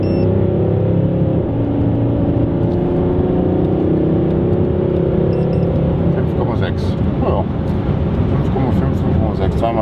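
A Volvo V60 with stage 1 tuning runs at full throttle, a loud, steady engine drone holding through the stretch with rising roughness toward the end, while people talk over it.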